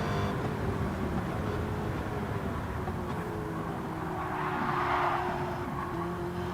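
Drag race cars on giant rear tires skidding and drifting, a steady roar of engines with a long tire squeal swelling near the middle and end, no voices.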